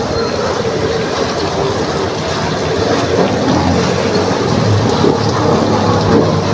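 Heavy rain drumming steadily on a tricycle and the road while riding, a dense, loud, continuous wash of noise with an engine rumble underneath.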